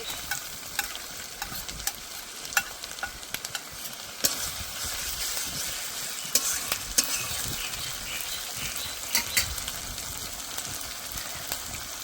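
Cumin paste and dry red chili paste fry with onions, ginger and garlic in a pan for prawn malai curry, a steady sizzle broken by scattered scrapes and clicks of a spoon stirring against the metal.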